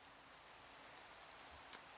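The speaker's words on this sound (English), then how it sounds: "it's starting to rain" Light rain starting to fall outdoors, a soft, steady patter of drops spread evenly and faintly across the scene, with one brief sharper tap near the end.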